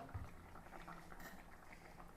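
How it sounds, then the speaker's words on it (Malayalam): Fish curry in a pot bubbles at a steady simmer, a soft continuous burble with light patter of popping bubbles, close and fairly quiet with no voices. "തിളച്ചിട്ടൊരു അഞ്ച് മിനിറ്റ് ആയിട്ടോ"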